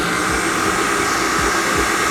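A stand mixer kneads cinnamon pastry dough with a steady, loud motor whine, with faint rhythmic thumps beneath as the dough turns, continuous throughout with no talking.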